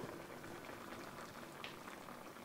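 A pot of low carb sausage Tuscan soup simmers with a dense, continuous bubbling and popping, quiet and close, with no voices over it.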